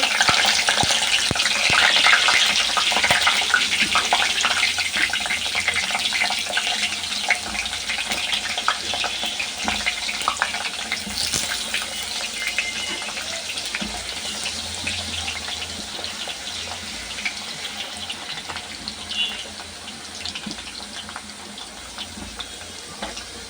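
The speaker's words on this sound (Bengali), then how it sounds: "আলুগুলো ভাজার জন্য এখানে আমি তেল বসাইছি" Potato chips sizzle steadily in hot oil, a dense, bright crackle that stays loud and even throughout, slowly easing a little toward the end.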